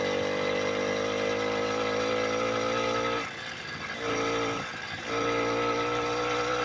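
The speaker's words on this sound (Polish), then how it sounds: "puszczamy sprzęgło i motorynka nam elegancko odpala" A two-stroke moped engine fitted to a Romet Jubilat bicycle runs with a steady, close buzzing drone, dipping briefly twice as the revs change.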